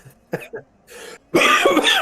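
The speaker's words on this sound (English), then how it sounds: "Well, now we can hear you cough." A person coughs a few times close to the microphone, a couple of short coughs followed by a louder, harsher hacking burst.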